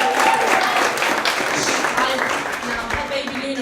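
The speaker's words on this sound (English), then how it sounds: "Now this woman deserves a round of applause, and I'll tell you why." Loud crowd applause at a live Lush cosmetics event, thick continuous clapping with voices and a faint tonal hum mixed in, easing off slightly toward the end.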